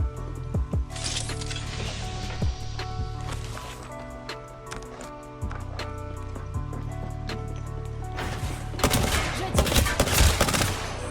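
Heavy blasts from the Mastiff shotgun in Apex Legends, several sharp, close shots in succession with game sounds and musical tones between them, building to a dense cluster of firing near the end.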